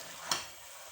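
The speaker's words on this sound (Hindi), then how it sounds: "तो अब हम इसके अंदर स्पाइसेस ऐड करते हैं, मिक्स करते हैं।" Spices stirred into spicy chicken spaghetti in a pan over a full flame: one brief scraping clack of the utensil against the pan over a faint, steady sizzle.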